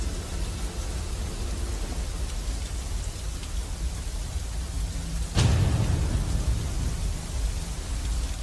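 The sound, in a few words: rain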